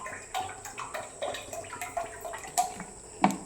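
Coconut oil poured from a two-litre container into a pan on a low flame for homemade oil, a soft, uneven liquid trickle and splashing close by with a few small knocks and gurgles.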